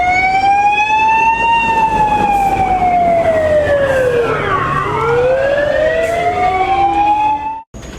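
A fire engine siren wails during a fire service drill in Kudymkar, loud and close, with its tone sweeping slowly down and back up while the engine rumbles underneath.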